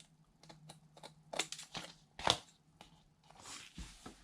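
Paper card stock from a Dollar Tree greeting card being miter cut, giving quiet crunching, crinkling snips and scrapes at irregular intervals with a sharper cut near the middle, close and soft over a low hum.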